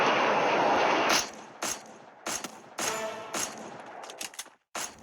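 Gunfire in a Free Fire battle royale fight inside a factory: a dense sustained burst opens, then sharp separate shots and short volleys crack out one after another, loud and close, with no talking.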